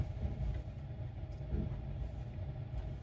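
Tesla Cybertruck driving on the road in comfort mode with lifted suspension, a steady low rumble of road and tire noise that stays even and continuous throughout, with no voices.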